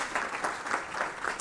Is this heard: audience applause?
yes